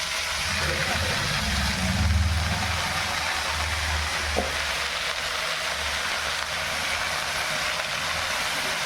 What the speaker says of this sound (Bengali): এবার শাকগুলো আমি তেলের মধ্যে দিয়ে দিচ্ছি